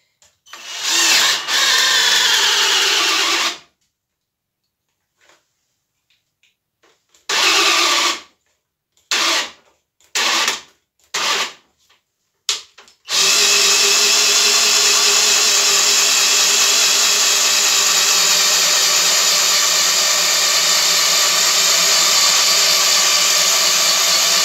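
A Graphite Energy+ 58G010 cordless impact drill driver drills holes: several short, loud whirring bursts separated by silence, then one long, steady, close-up run of the motor with no talk.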